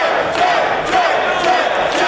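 Wrestling crowd cheering in support of Jay Lethal during a steel cage match, a dense, steady roar of voices with rising swells of shouting, loud and continuous throughout.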